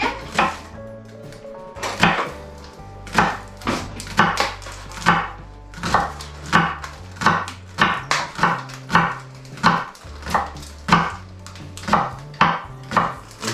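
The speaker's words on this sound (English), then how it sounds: "So Si, if you'd like to finely slice about there on the leek" A knife chops steadily through leek on a board, a near, crisp run of regular sharp knocks with brief pauses between bursts.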